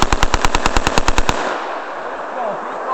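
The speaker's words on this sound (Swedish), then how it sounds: "Lite kort skur kanske." A rapid burst of about a dozen evenly spaced gunshots fires close by, then cuts off, leaving a ringing, noisy tail.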